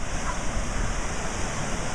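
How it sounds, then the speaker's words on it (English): Floodwater gushes out from under a bridge at an RV park by the bay, a loud, constant roaring rush of turbulent water heard close by without a break. "Now it's just spitting out water the whole time."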